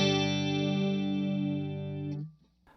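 Electric guitar run through a TC Electronic SCF Gold chorus pedal, a single sustained chord with subtle shimmering modulation ringing alone for about two seconds before being cut off, followed by a faint scrape.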